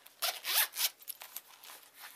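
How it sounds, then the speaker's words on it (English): A gold metal zipper on a pink striped accordion-style wallet being drawn open or shut in a few quick, close raspy pulls, quiet and with no talking. "And then you've got a gold zipper and the pink."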